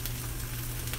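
Salmon fillet sizzling loudly in a hot frying pan as it is flipped, a dense, steady crackle of hot oil up close with no talk.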